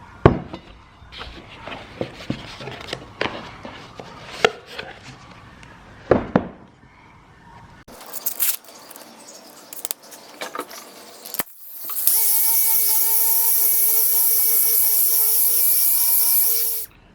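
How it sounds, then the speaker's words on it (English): Sandpaper of 1500 grit rubbed over an 1987 GT Pro Freestyle Tour BMX wheel, giving irregular scratchy strokes close by, followed by a steady high whine of a motor running alone. "Okay, so I'm done with the sanding."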